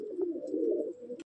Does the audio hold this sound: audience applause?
no